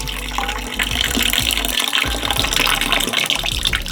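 Water pours out of a Harbor Freight lapidary parts tray into a 5-gallon bucket, a loud continuous gushing splash that lasts several seconds and surges unevenly as the tray tips.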